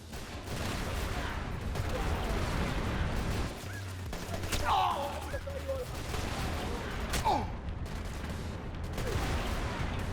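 Gunfire from a firefight in the Splinter Cell Conviction video game, bursts of shots crackling steadily under a low rumble throughout, with several sharper reports standing out midway.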